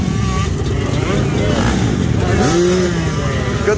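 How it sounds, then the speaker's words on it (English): A big-bore two-stroke hillclimb dirt bike revs at the Quaboag hillclimb in Monson, Massachusetts, giving a loud, steady raspy drone that rises in pitch near the end. Crowd voices murmur underneath. "Bike sounding good."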